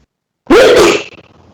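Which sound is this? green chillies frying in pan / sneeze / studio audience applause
sneeze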